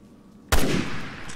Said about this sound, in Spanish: Venga. Disparo.